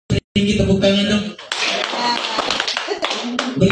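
An audience bursts into a sustained round of hand clapping in the middle, framed by a voice speaking just before and again as the applause fades.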